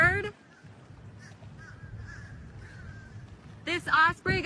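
An osprey rescued from the sea after getting stuck in the water gives harsh, cawing calls at the start and again near the end, with voices and outdoor noise around it.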